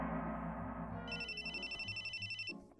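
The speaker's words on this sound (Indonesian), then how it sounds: "Tunggu, ada telepon." A phone rings with a bright electronic ringtone, repeating pulses over a low musical background, loud and close before cutting off near the end.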